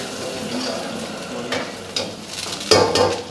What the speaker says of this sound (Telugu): సో లైట్ బ్రౌన్ వచ్చే వరకు కూడా ఇవన్నీ ఫ్రై చేస్తున్నారు